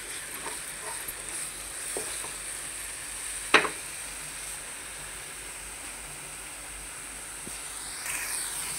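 Masala for chicken bhuna fries in a pan with a soft, steady sizzle, joined by occasional light clinks and one sharp utensil tap near the middle; no one speaks.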